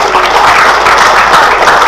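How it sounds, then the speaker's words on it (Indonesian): Audience applause at an Indonesian ministerial event on waste management and beach cleanup, a loud, dense burst of clapping that holds steady throughout. "Tepuk tangan untuk Bapak."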